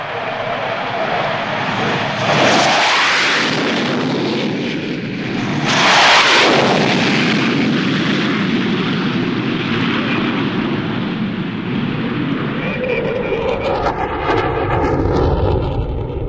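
Warplanes roar overhead during an aerial attack on La Moneda palace in Santiago, a loud sustained engine rumble with two surging passes and a rising whine near the end.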